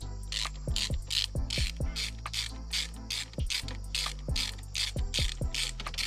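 A wrench ratchets out 5/16 bolts on a Minn Kota Powerdrive trolling motor, sounding as repeated bursts of close, crisp clicking with brief pauses between strokes.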